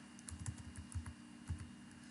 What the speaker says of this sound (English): I am going to type the heading index